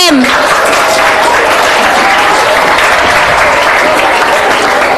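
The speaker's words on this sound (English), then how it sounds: "A huge round of applause for them." Loud audience applause for competition medal winners at a school spell bee event, a continuous dense roar of clapping with a brief voice at the very start.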